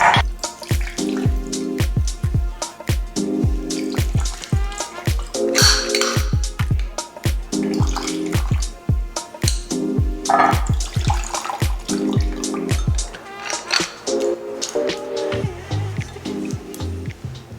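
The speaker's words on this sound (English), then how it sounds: "We're gonna squeeze it into this to make sure we get 3 ounces of lemon juice." Fresh lemon juice being squeezed into a glass drips in quick, repeated splashes and trickles, fairly close and clear over quiet background music, without any speech.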